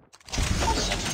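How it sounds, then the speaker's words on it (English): A sentry gun deploying in Call of Duty Mobile, a brief quiet mechanical clicking that swells into a loud, sustained whirring, grinding mechanism noise, with no voices. "Sentry gun ready to deploy."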